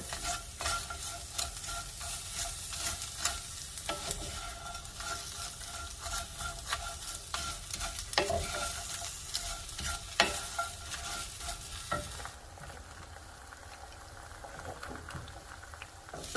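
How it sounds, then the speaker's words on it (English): Fresh onion sautés and sizzles in a hot pan with steady frying crackle, joined by repeated scraping stirs and clicks, the sizzle easing slightly near the end; no talking. "I'm going to add some onion. This is fresh onion into the pan and let that saute for a little bit."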